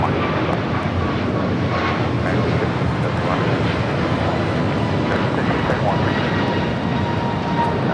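An Austrian Airlines Boeing 777-200ER arriving at LAX from Vienna fills the air with a loud, continuous jet engine roar, steady and close, while someone talks over it.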